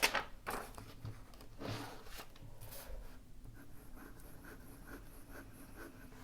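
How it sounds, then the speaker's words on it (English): Dry pen nib dragged across paper in a run of short, slightly scratchy writing strokes, close and quiet, with no voices. "I did some dry writing experiments on paper"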